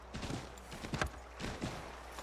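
Hooves clip-clop in a few uneven bursts, fairly close, with a faint breathy snort and no talking, in the video game Assassin's Creed 3.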